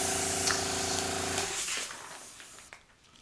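A steady hissing airbrush spray with a faint motor hum runs for about a second and a half over a cake, then cuts off, leaving quiet clicks and rustling.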